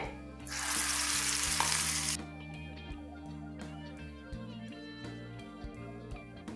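Rajasthani garlic chutney hits hot ghee with cumin and asafoetida, bursting into a loud, close sizzle for about two seconds before settling under steady background music.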